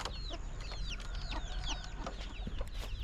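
Several chickens cluck and chirp close by in a village in Nong Khiaw, Laos, in a busy, continuous stream of short calls, with a faint background hum.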